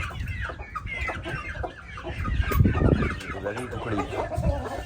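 Chickens and roosters cluck and chatter close by throughout, in busy overlapping calls with a loud burst near the middle; a person's voice mingles with the birds.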